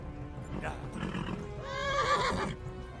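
A horse in the video game Kingdom Come: Deliverance lets out a loud whinny, with hoof clops and a voice talking around it.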